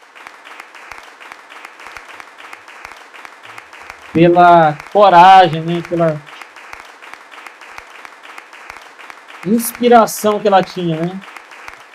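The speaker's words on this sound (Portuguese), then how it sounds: "Eu queria que nós aplaudíssemos Glaucia" An audience breaks into two bursts of clapping at a lecture, the second shorter and lighter, with a speaker's voice continuing in Portuguese between and around them.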